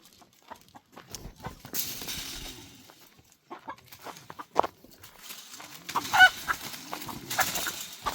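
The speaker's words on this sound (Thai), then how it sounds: "อ้ยไก่เข้ามาสะ" Chickens clucking nearby, scattered soft clucks and calls mixed with footsteps and rustling, growing busier toward the end.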